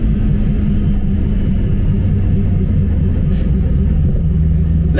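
Supercharged BMW M3 E92 accelerating with slight wheelspin, a loud, close, deep engine rumble that stays heavy and steady throughout.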